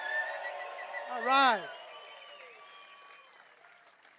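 A crowd applauds and cheers at a skateboarding Hall of Fame induction ceremony, a broad wash of clapping under someone speaking into a microphone with a short rising shout in the middle.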